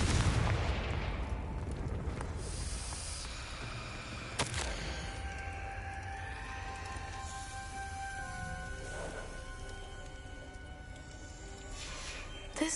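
The Confringo fire spell cast in Hogwarts Legacy lands as one sharp, loud blast partway through, over steady game ambience, and is followed by lingering ringing tones that slowly fade.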